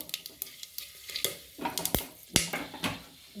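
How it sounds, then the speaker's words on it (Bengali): Whole cinnamon, cardamom, cloves, cumin and peppercorns stirred in a hot pan, with a quick string of sharp close scrapes and clinks over a faint sizzle, and no voices. "দারচিনি এলাচ লবঙ্গ গোটা জিরে গোলমরিচ এর মধ্যে দিয়ে দেব দিয়ে একটু নাড়িয়ে নেবো"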